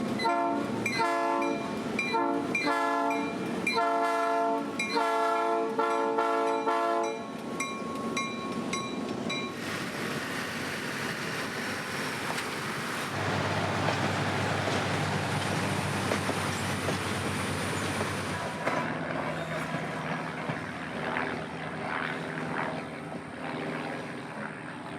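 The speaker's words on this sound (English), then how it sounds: "the 10 a.m. train is all ready to go now, leaving at 10 on the dot" A loaded train's horn sounds in several long blasts in Central Florida, then gives way to the heavy, steady rumble of the train pulling away.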